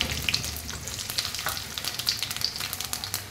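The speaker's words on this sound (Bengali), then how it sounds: "এখানে তেল গরম হয়ে গেছে, আমি দুটো শুকনো লঙ্কা ফোড়ন দিয়ে দিলাম" Dried red chillies and black cumin seeds crackle and sizzle in hot mustard oil, a steady close frying hiss dotted with small sharp pops throughout, with no voices.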